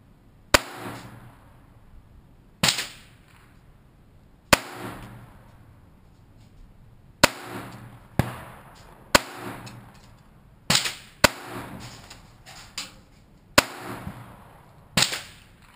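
Pistol shots at a live-fire range practice session, about ten sharp, loud reports spaced irregularly, each with a short decaying tail, with no talking between them.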